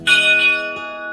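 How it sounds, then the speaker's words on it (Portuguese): An old chapel bell in a 200-year-old historic mansion is struck, giving a bright metallic clang with a long ringing tail and a softer second tap, close and loud. "Olha, tem um sino aí."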